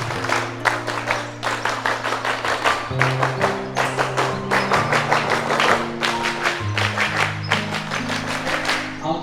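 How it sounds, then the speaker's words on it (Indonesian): Scouts clapping out the Pramuka rhythmic clap pattern three times together, crisp sharp group claps in a repeating beat with music or a low tone running underneath. "Tepuk pramuka 3 kali."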